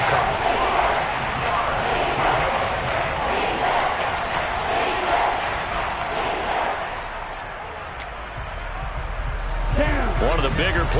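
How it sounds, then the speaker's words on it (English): A football stadium crowd gives off a continuous broad roar that swells toward the end, with voices talking over it. "the crowd getting into it as we come up on a big 3rd down"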